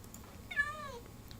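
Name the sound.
cat meowing in a video game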